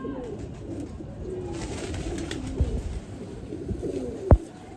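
Racing pigeons coo softly and intermittently, a few low murmuring calls over a steady outdoor background, with one sharper knock near the end.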